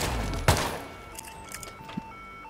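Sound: gunshots in the video game Hitman 2

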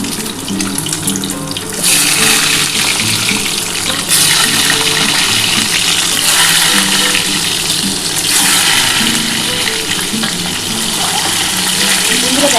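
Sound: eggs with turmeric and salt frying in hot oil

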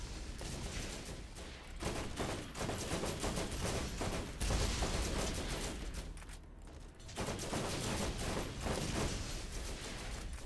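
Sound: shotgun gunfire in Borderlands video game

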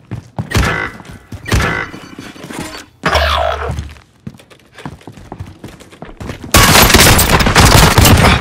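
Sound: gunfire in video game Call of Duty Warzone

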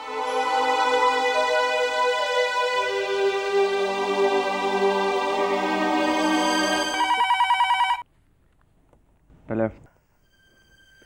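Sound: telephone ringing

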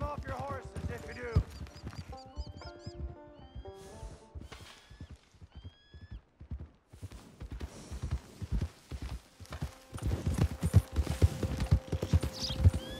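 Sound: horses trotting, hoofbeats in video game Red Dead Online

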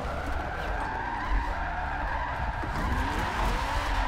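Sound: Dodge Viper ACR V10 drift car skidding in racing video game

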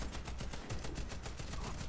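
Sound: gunfire in Warface video game

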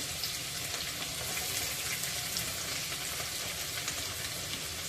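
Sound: onion frying in oil

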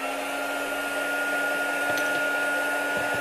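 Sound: heat gun running for card making embossing

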